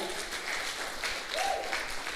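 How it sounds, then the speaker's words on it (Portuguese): Applause from a congregation during a Wednesday evening church service, a steady, moderately loud wash of clapping lasting about two seconds with a faint voice briefly audible under it. "Dê um aplauso ao Senhor, os bem mais que vencedores."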